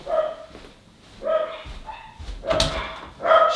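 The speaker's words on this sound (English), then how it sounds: "I gotta shut these dogs up." Dogs bark loudly and close by in short bursts, four or so separate volleys spread across a few seconds, with no one talking over them.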